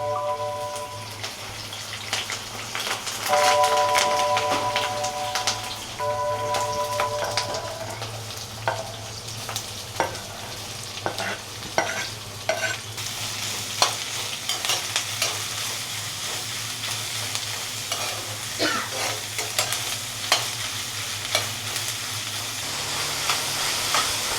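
Green chilies and curry leaves frying in hot oil for a Telangana village-style chama leaf fry, a steady sizzle with frequent stirring clatter and scraping over a low background hum, some tonal beeps early on.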